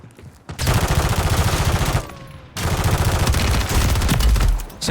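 Sustained automatic gunfire from a full magazine dump in the shooter game Warzone, loud and close, with two long continuous bursts separated by a short pause.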